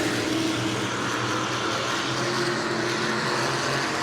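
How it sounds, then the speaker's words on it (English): Mod 20 race cars run nose to tail through a turn at New Smyrna, a steady, loud engine roar with no break across the few seconds. "Top 3 cars, nose to tail through 3 and 4 as they come to lap number 9."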